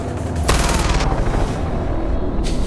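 Gunfire from a powerful weapon in the video game Far Cry 4 during an outpost assault, heard as a loud burst of rapid shots that carries on through the clip and ends with a final blast near the end.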